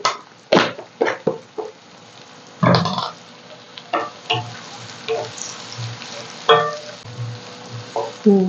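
Onion sautéing in a pan, a soft background sizzle interrupted by a series of loud, close scraping and clattering stirs spaced irregularly throughout.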